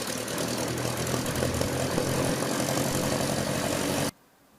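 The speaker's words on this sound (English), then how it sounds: "Take a look and see how easy it is to start the engine." Cessna 172M piston aircraft engine running close by with a steady, droning propeller roar that cuts off abruptly near the end, leaving quiet.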